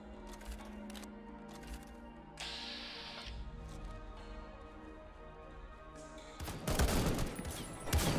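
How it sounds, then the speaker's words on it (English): Gunfire in the Fallout New Vegas mod The Frontier: a background of scattered shots builds into a loud, dense burst of rapid firing near the end, over a steady game-ambience bed. "I keep shooting the wall in front of me. I can see the specks of concrete coming from the damn bullets."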